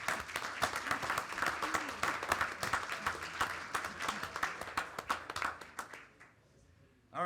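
Sustained applause from an audience at a school committee meeting honouring eighth graders, dense rapid clapping from many hands that holds steady for about six seconds before thinning out and stopping.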